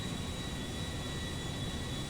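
A Concorde airliner in GTA V gives off a steady, dense jet-engine roar, loud and unchanging for a couple of seconds with no voices over it.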